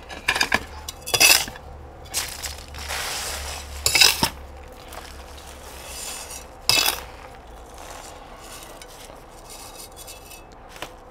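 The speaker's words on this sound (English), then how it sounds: "first a bit of extra 3 mil gravel really lightens it up" Small 3 mm gravel poured into a heavy bowl for a succulent arrangement, heard as several short, bright rattling bursts of stones clinking against the dish, with quieter gritty shuffling between them.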